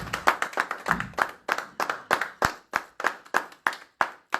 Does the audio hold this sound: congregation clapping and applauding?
yes